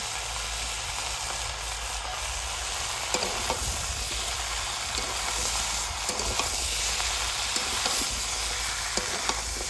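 Turmeric and green peas fry in a wok while being stirred, a steady loud sizzle with repeated scraping strokes of a spatula against metal, close and continuous.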